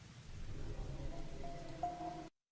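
Rain and thunder from the video game Rain Code, near an old industrial building, form a steady low rumbling wash of rainfall with a faint tonal line near the end before cutting to silence.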